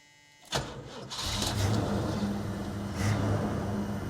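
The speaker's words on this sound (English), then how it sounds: "I think we'll fire the car up and you can hear it running." A 1979 Pontiac Trans Am with a 6.6L 403 V8 cranks and fires up, then settles into a steady, throaty idle with a brief rev, heard fairly close and alone.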